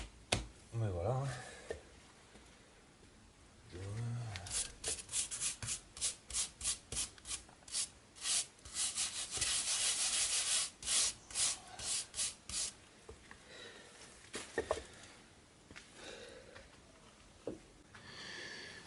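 A stiff brush scrubs a stone wall in a garden, making rapid rhythmic rasping strokes in bursts, close and fairly loud, with a voice talking now and then between strokes.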